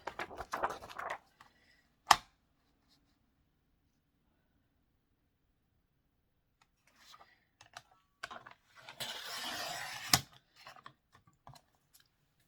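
Cutting the top edge of a printed PDF page at home, with sparse close crisp snips and rustles: a brief cluster at the start, a single sharp snap, then a longer rasping cut ending in a click.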